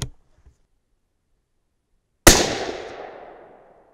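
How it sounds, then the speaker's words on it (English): A single loud rifle shot from a Thompson/Center Compass in an ORYX chassis, a sharp crack with a short decaying echo, following near silence. "Let's see if we can shoot a good group."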